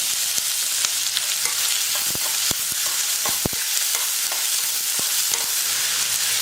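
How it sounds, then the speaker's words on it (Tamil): Finely chopped large onion sizzles and fries in a pan while being stirred, a steady close crackle with scattered sharp pops and scraping stir sounds throughout, no voices. "ஒரு பெரிய வெங்காயம் எடுத்து சின்ன சின்னதாக கட் பண்ணிக்கிட்டு அந்த வெங்காயம் சேர்த்துக்கிறேன்"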